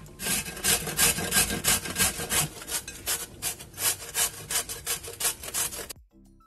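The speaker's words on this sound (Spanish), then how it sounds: "Le quito los extremos y con el rallador por la parte más gruesa lo vamos a rallar" A zucchini with its ends trimmed is rubbed against the coarse side of a kitchen grater in quick, rhythmic rasping strokes, close and steady for about six seconds before stopping abruptly.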